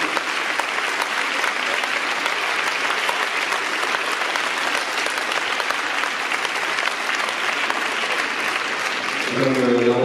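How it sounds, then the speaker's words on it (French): Audience applause for the volunteers of a roller artistic skating club at the opening of the French championship in Dijon, a steady, dense clapping sustained throughout before a voice begins at the very end. "je sollicite tous vos applaudissements pour l'ensemble des bénévoles de ce club"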